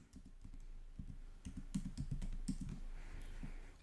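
Keys tapped on a computer keyboard in a quick, uneven run of soft clicks, close but quiet, with brief pauses between bursts and no talking.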